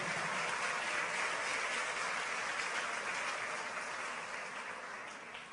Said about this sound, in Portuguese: Vamos agradecer a Jesus por isso com uma forte salva de palmas